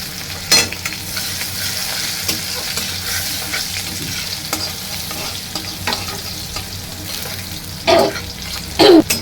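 Chopped onions with a little sugar frying in oil, a continuous close sizzle broken by scraping stirs and a few louder bursts near the end, no talking.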